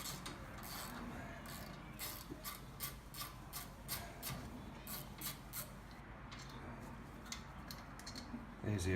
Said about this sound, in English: Easier with a shorter ratchet